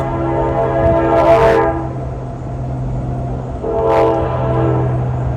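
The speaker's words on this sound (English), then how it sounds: "There's a train again, never fails." A train passes close by, its horn sounding in two loud blasts over a steady rumble of rail cars and engine noise, with no talking.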